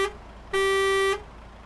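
A modded truck horn in Euro Truck Simulator 2 sounds once as a steady, loud, bright tone of about half a second, standing alone and cut off cleanly.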